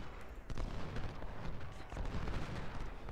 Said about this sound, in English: Should be setting up those cannons back there.